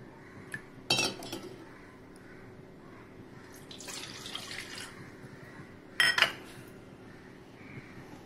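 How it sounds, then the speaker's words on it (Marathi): A bowlful of water poured into a vessel for Gujarati khaman dhokla makes a soft splash lasting about a second, framed by sharp clinks of a steel bowl and utensils in a quiet kitchen. "खमण ढोकळा करण्यासाठी या वाटीने 1 वाटी पाणी घेऊया।"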